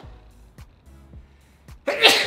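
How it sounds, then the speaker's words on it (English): One loud, sharp sneeze bursts out at the end after a few quiet breaths and small sounds. "I kind of have to sneeze."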